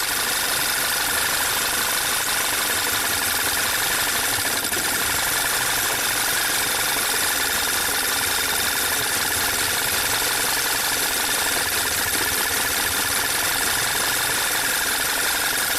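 A VW turbo GDI engine idles roughly with a cylinder misfire, its steady mechanical drone and faint ticking knock holding at a constant level with no voices.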